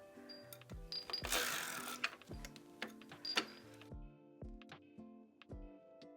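A sock knitting machine is cranked by hand, producing close rhythmic mechanical clicks and clacks in a regular repeating pattern, with a brief burst of rustling noise partway through.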